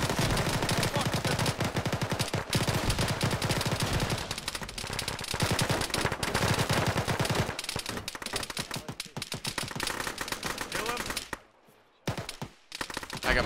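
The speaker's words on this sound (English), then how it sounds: "I just threw a shitload of grenades." Dense gunfire and grenade blasts fill an Arma firefight, relentless loud bursts of rapid shots layered with booming explosions, dropping to a brief near-silence before firing resumes.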